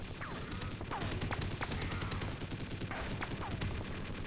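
Rapid bursts of gunfire fill a Half-Life: Opposing Force firefight, loud and close, with sharp repeated shots and crashing impacts running continuously throughout.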